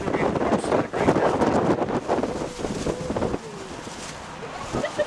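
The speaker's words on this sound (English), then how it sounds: "the weathermen were correct about the wind today" Strong gusting wind, said to reach 45 to 50 mph, buffets the microphone on an open Manhattan bus tour, a loud broadband rush that swells and eases throughout, with faint voices and traffic underneath.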